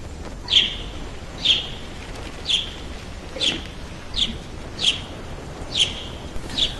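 Giant chicken-like birds in the video game Shelter let out short, shrill squawks at regular intervals, about eight calls spread evenly, each one brief and mid-distance over a low hiss of background ambience.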